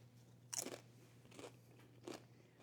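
Three crisp, close crunching bites and chews of fresh corn salsa with tomatoes and peppers, spaced about a second apart over a faint low hum.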